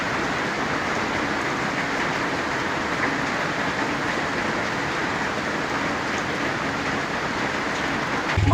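Steady rain pours down outdoors on a farm during rambutan harvest, a dense continuous hiss of drops on surfaces holding even and fairly loud throughout with no voices, a brief low thump at the very end.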